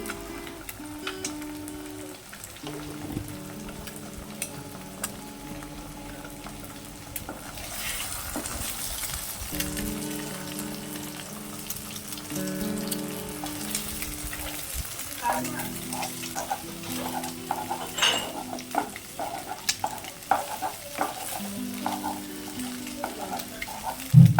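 Three eggs frying in a pan with a pinch of salt, a continuous soft sizzle with light scraping and stirring over a steady background hum.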